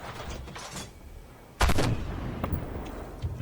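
A tank cannon, a Super Patton in the game Armored Warfare, fires one loud, sharp round midway, then a rumbling mechanical tail follows, with fainter engine and combat noise before and after.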